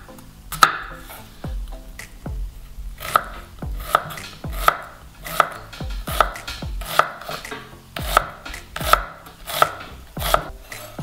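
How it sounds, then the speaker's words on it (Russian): Onion being finely chopped with a knife on a board, a steady series of crisp, close taps in even rhythm, with no voices. "Нарезаем очень мелко."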